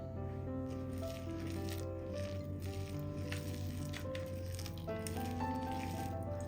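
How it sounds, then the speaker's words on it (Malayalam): Hands knead a sticky dough of mashed banana and roasted raw rice flour, giving soft, wet squishing and pressing sounds that repeat close up under a steady background hum, with no talking. "കുറച്ചായിട്ടിട്ട് ഇതൊന്ന് കുഴച്ചെടുക്കാം."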